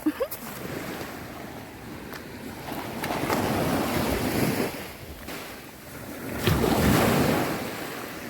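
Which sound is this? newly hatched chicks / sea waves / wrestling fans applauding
sea waves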